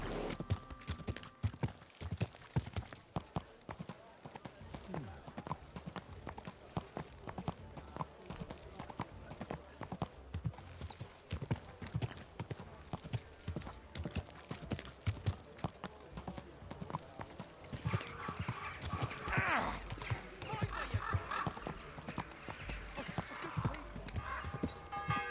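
Steady clip-clopping of horse hooves at a walking pace in Kingdom Come: Deliverance II, clear and close, with faint background ambience and no talking.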